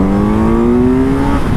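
A brand new Yamaha FZ motorcycle with only 24 miles on it revs hard from 3,000 RPM at three-quarter throttle, one loud continuous rising engine note that climbs steadily and stays up close throughout.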